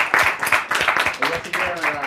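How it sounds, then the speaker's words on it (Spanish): A small group claps briskly for a couple of seconds, sharp uneven hand claps close by with voices mixed in. "Vamos a aplaudir al artista."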